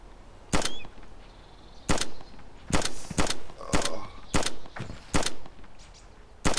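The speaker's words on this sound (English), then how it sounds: "I might just try and shoot at him so he moves." Sharp rifle gunshots from the DayZ video game fire at an enemy, about ten loud cracks in an uneven, fairly quick sequence with little else around them.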